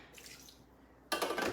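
Water poured into a hot cooking pan for a single-serve stir-fry gives a sudden, loud hissing splash that lasts about half a second after a quiet stretch.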